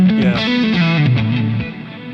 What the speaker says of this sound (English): this tone has a lot of reverb and delay